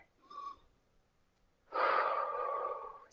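During a yoga session, a person takes a short inhale through the nose and then a longer, louder breath that lasts over a second, both close and quiet with no speech.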